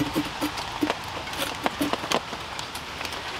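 Outdoor rain falls as a steady hiss of close, scattered drops ticking on surfaces, moderately loud throughout the few seconds.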